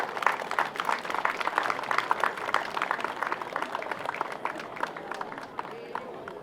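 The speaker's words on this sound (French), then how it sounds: "on peut l'applaudir" Audience at a filly and foal show in Brittany applauding, a dense patter of many hands clapping steadily for several seconds before slowly thinning out.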